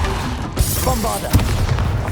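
A Bombarda explosion spell goes off in Hogwarts Legacy, a loud, dense rumbling blast with sharp thumps layered over continuous game-combat noise.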